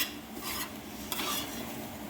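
A spoon scrapes and stirs fried rice in a hot pan, giving soft rasping strokes over a faint sizzle, close and moderately quiet with no voices.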